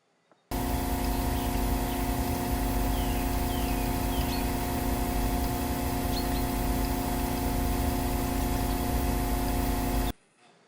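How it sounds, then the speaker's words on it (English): A single-speed residential pool pump runs at a steady loud level with a constant motor hum and broadband whirring noise for about ten seconds, starting and stopping abruptly, with no talk. "I'll play it again. A single speed pump."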